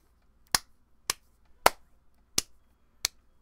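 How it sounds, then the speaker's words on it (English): Five sharp single hand claps, evenly spaced about half a second apart, loud and close in an otherwise quiet room. "Oh gosh, that's really loud in the audio. Maybe not clap too much."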